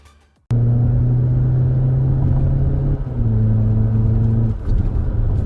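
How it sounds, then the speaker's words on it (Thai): A diesel BMW G30 with a Euro Art sport exhaust accelerates hard, a deep steady droning rumble that dips briefly and then pulls on, loud and close. "ทดสอบอัตราเร่งชุดท่อ Euro Art Exhaust ใน BMW G30 ดีเซลนะครับนะ"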